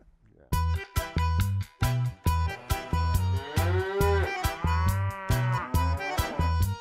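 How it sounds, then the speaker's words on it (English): Cows on a Swiss mountain farm, with loud, near, harmonic moos and one long drawn-out low call, set against a steady rhythmic pulsing of regular thumps and beats throughout. "milking one of Renzo's many cows"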